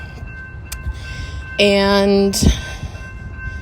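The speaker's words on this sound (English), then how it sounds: "there's a train going by" A train passes in a small town, a horn-like tonal blast rising briefly over steady background rumble, with a person's speech nearby.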